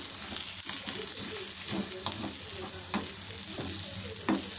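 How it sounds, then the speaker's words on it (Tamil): Dry roasted dal and grated coconut are stirred in a pan for a Karnataka-style recipe, giving steady scraping and scratchy stirring strokes over a faint continuous sizzle, with a few sharper clinks of the spoon against the pan. "தேங்காயோடு சேர்த்துட்டு கலந்து விட்டுப்போம்"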